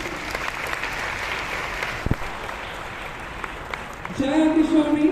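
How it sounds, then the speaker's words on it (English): Audience applause at a felicitation during a college entrepreneurship summit, a steady dense wash of clapping for about four seconds, then a voice begins talking over the clapping near the end. "let the applause continue"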